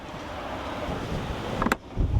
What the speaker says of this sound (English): The wind is getting us.